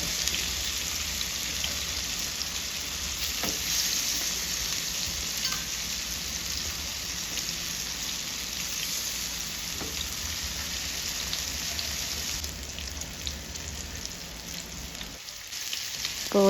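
Fish frying in hot oil in a home kitchen, a steady close sizzle and crackle that continues throughout with occasional small pops.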